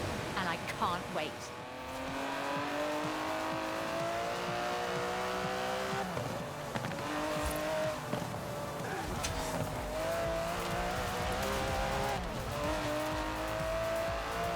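An Aston Martin DB11 drives in the racing game Forza Horizon 4. The engine drones steadily with rising and falling revs as it shifts through gears, and tires squeal now and then, loud and continuous throughout.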